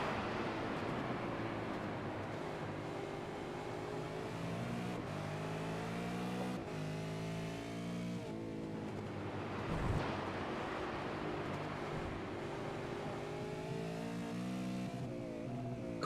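Several V8 race car engines in the iRacing sim, running as an East Coast V8 Series field, drone steadily with layered harmonic whines that rise and fall as cars run close together, loud and continuous with no talk.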